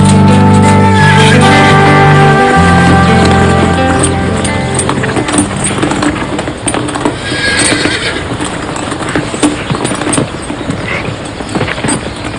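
A horse clip-clops close by with a loud whinny at the start, hooves beating in a steady rhythm over sustained background noise.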